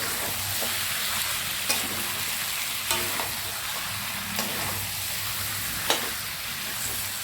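Mutton frying in a pan after tomato is added, with a steady sizzle and occasional sharp scrapes of a spoon stirring it, close and continuous.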